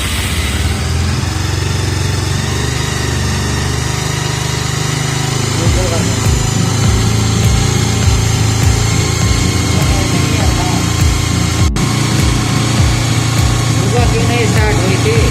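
A motorbike without a kick starter, left standing for a month, runs at idle after an electric start, a steady close putter with a regular thumping rhythm, while people talk loudly over it.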